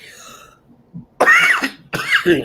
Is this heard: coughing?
yes